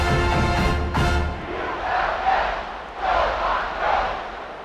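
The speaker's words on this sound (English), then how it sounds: "feed off the energy of this home crowd" A home crowd in the College Football 26 video game roars and chants in rising and falling waves, loud and close, after a couple of sharp bursts at the start.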